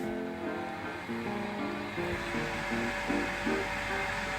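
A quiet 230V 3D printer part-cooling fan setup, with a side fan and a blower over the motor, runs with a steady, even whir and hum that holds constant throughout.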